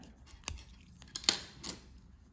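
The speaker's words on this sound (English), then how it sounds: "now we can cut the yarn, leave some tail" Scissors snip yarn during a crochet ornament project, three or four crisp close snips spaced unevenly over a quiet background.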